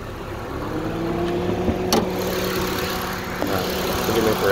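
The engine of a 2013 Honda CR-V idles steadily with the hood up, a close, even mid-pitched rumble with a brief metallic click partway through.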